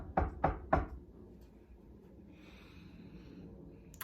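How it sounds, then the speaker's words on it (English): A person knocks on a door three times in quick, even succession, loud and close, followed by quiet room tone with faint breathing. The scene is part of a Matilda chapter read-aloud. "She knocked on the door."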